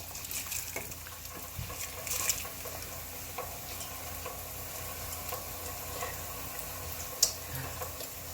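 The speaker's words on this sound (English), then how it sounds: "we're gonna go ahead and add our rice to it" Rice poured into a pot of hot ghee for vegetable dum biryani, with a steady sizzle, stirring scrapes and scattered faint ticks and clinks throughout, close and fairly quiet.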